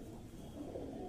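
Pigeons at a pigeon market in Ghaziabad coo softly and continuously over a low background murmur, with no clear talk.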